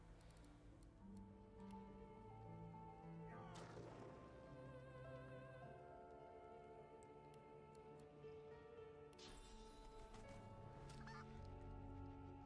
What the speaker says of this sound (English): That's a big chicken.